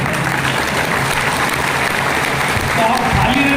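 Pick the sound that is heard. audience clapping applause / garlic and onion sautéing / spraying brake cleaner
audience clapping applause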